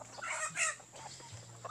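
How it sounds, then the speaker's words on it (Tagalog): Hybrid chickens cluck and give short crowing calls nearby, a few overlapping bursts of fowl vocalizations against a quiet farmyard background. "So, ngayon, ang hybrids natin ng mga manok."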